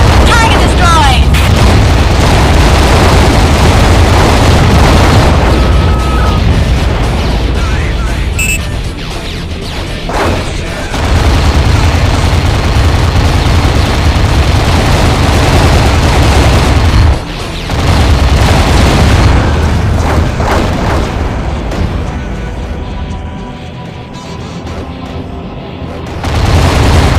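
Loud, dense explosions of destroyed targets in AquaNox, the underwater combat game, booming and crashing almost without pause, with brief dips between bursts and a voice calling out over the blasts.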